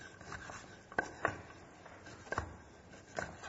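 A knife slices through chorizo on a board, a few quiet, distinct cuts spaced apart at close range, with no talking.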